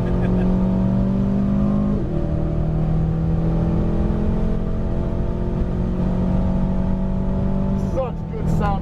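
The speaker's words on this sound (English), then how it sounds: "Such good sound out of this car." An Aston Martin racing car on a hot lap of the Miami F1 circuit roars loudly and steadily at high revs, with brief dips in pitch as it shifts gears near the start and end.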